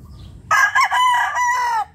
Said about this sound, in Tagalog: Yan ang aming broodcock.